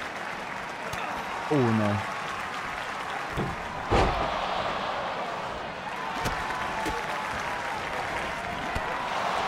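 A crowd applauds steadily in the background of the wrestling video game WWE 2K24 while a person talks over it, with a few brief thumps and a short rising tone near the start.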